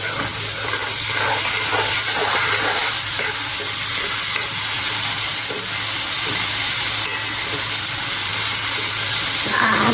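A hot pan of frying food with water added gives a continuous close sizzle and steamy hiss with stirring underneath, steady throughout.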